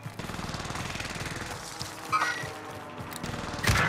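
Rapid bursts of gunfire crackle in a noisy Call of Duty: Modern Warfare scene, with a couple of heavier shots standing out near the end.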